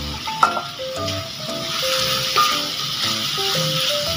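Beans dropped into a pan of sizzling chicken feet adobo, a steady close frying hiss with a sharp splash of the added beans and light stirring clatter, no talking.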